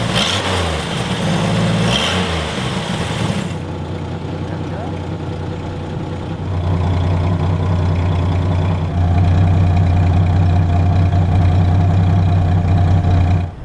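1971 Plymouth Scamp engine running, loud close rumble with revs at the start, then settling into a steady idle that grows louder and deeper.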